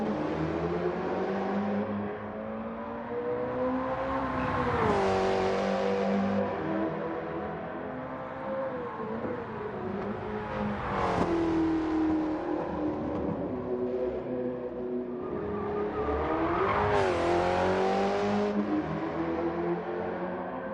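A Porsche 917 race car in a video game on the Sardegna track accelerates repeatedly, its engine note climbing and dropping over and over in long, loud, continuous surges with no voices.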